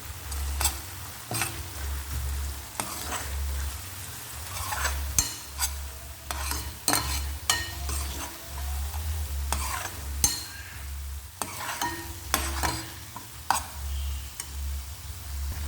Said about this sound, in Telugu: వేసుకొని ఒకసారి అయితే కలుపుకుందాము.